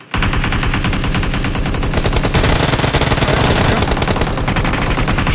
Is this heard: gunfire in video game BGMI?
yes